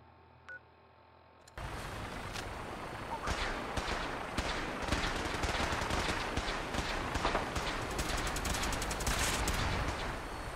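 Gunfire erupts in the video game Fallout 4 after a short beep, a dense stretch of rapid shots and bursts, some distant and some close, continuing steadily to the end.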